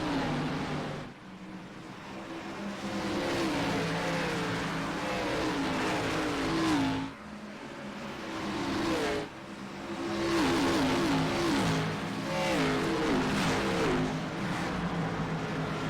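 Race cars roaring around Bristol Motor Speedway in a racing game, loud engines rising and falling as the pack laps the short oval, with brief dips between surges and several cars overlapping.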